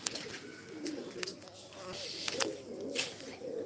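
Soft pigeon cooing repeats in low, murmuring phrases, with a few brief higher bird chirps scattered over faint background noise, from Jalal pigeons.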